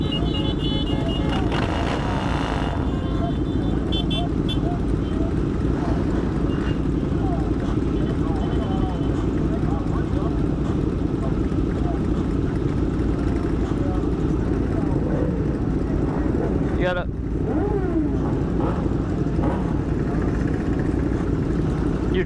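A big pack of motorcycles idles and rumbles at an end-of-season group ride, a steady low engine drone with occasional revs, and a brief sharp rising whine near the end.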